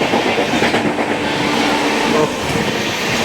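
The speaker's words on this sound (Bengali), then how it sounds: "ট্রেন বেশ জোরে সাতটাগাছি ছেড়ে এবার বেরোচ্ছে ফরেস্ট স্টেশনে" A fast passenger train leaving a station on an Indian railway line, heard as a steady loud rumble with rhythmic clickety-clack of wheels over rail joints and a faint squeal, with no voices.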